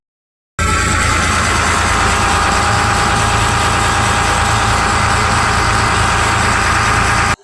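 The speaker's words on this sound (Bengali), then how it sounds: "তো চলো ইঞ্জিনের শব্দটা শুনো।" A boat engine at Gangasagar runs loud and close, a steady heavy droning rumble with constant vibration that starts abruptly and cuts off just as suddenly at the end.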